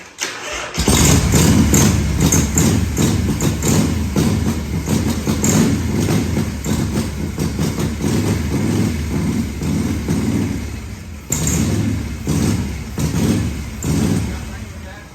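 A 1978 Harley-Davidson Shovelhead FXS Low Rider V-twin fires up after a brief silence and runs loud and close with a rough, pulsing rhythm, briefly dipping and catching again near the end, with a voice talking over it.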